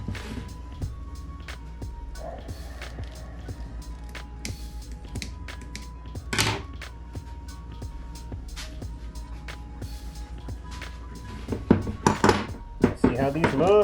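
Soft plastic fishing lures are pulled from a mold in a steady string of close clicks, taps and light rattles, with a louder clatter near the end.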